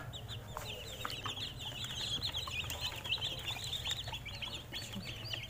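A flock of white broiler chickens clucks continuously in a warm poultry house, many overlapping high chirps and clucks at moderate level with a low steady hum beneath.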